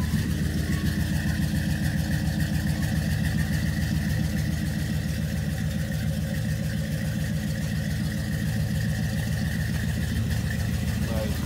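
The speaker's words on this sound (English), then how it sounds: "Cold start. Give it a nice cold start." Chevy Impala SS from 1996 with a swapped 5.3 LS V8 on a cold start, settling into a steady, loud, rumbling idle with an even throb and no pause throughout.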